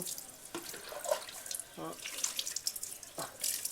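Running water splashes and gushes in uneven bursts while Rimi is bathed, close and moderately loud, with a soft voice now and then in the background.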